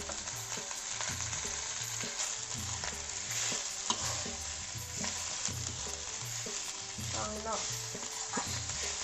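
Sambar masala stirred in a sizzling frying pan with sesame seeds, a spatula scraping in a steady repeated rhythm over continuous close frying hiss.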